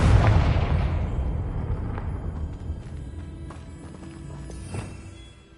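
A Confringo blast spell detonates in a Harry Potter-style video game, opening with a loud booming burst that rolls into a long, decaying rumble, followed by faint scattered clatter and softer thuds fading out.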